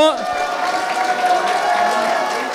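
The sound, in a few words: audience applauding at a museum event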